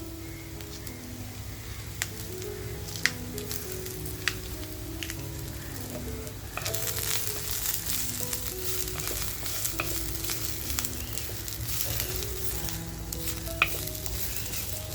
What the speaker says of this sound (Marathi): आपल्याला छान असं भाजून घ्यायचं आहे